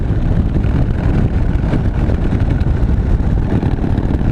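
A 2013 Harley-Davidson Dyna Super Glide cruises in sixth gear at just over 2,000 RPM, its engine a loud, steady low rumble mixed with buffeting wind noise.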